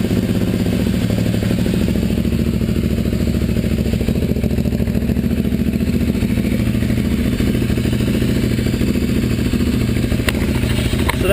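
Ducati Hyper 821 motorcycle engine cranking and catching after sitting since last winter, settling into a steady close, loud, lumpy idle with a mechanical clatter, alone without talk.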